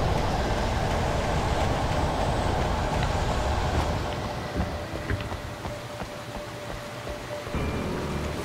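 Steady, loud wind roars and rushes through a dark outdoor scene in the video game Alan Wake, a broad continuous blast that eases slightly midway and swells again near the end, heard alone without talk.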